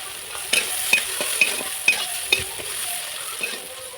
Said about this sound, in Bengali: ওই তেলের মধ্যে আমি কালো জিরে দেব কাঁচা লঙ্কা ফোড়ন দেব এবারে দিয়ে দেব পেঁয়াজ কুচি